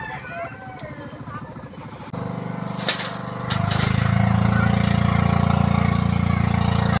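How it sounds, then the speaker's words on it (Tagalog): Small shrimp-fishing boat's motor running loudly on the water, a steady mid-pitched chugging that starts partway in and grows stronger and louder, with some talking over the early part. "At mayroong nanghuli ng hipon na napakaingay ng yung andar ng makina."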